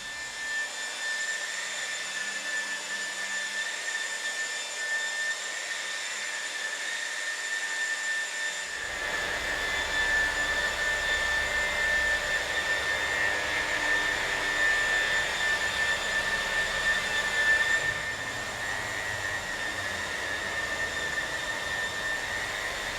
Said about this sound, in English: we'll start with the orbital buffing machine to give it its nice sheen and polish